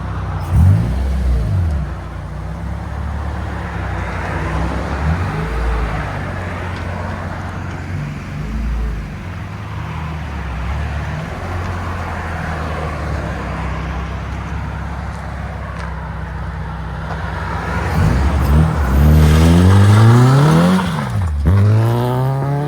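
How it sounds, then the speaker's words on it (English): A 2000 Honda Civic with a swapped K24-A2 engine, headers and Vibrant exhaust idles nearby, then loudly revs and accelerates away near the end, rising through gears as it pulls off. "He's gonna give us a nice drive off"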